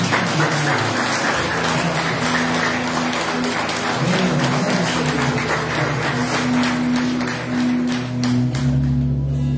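A church congregation claps together amid sustained music, a dense, rhythmic patter of many hands continuing for about ten seconds with a droning tone underneath.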